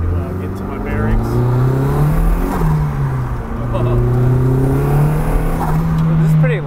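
An SR20-powered Datsun 510, a lightweight car of about 2160 pounds, accelerates hard through several gears. The engine note climbs repeatedly with brief dips at each shift, loud and close, heard from inside the car.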